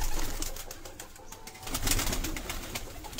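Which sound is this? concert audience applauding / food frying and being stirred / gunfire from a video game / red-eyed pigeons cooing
red-eyed pigeons cooing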